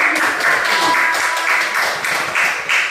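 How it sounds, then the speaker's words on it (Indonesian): A crowd claps steadily and fairly loudly, a dense patter of many hands that continues throughout. "Oke, beri tepuk tangan."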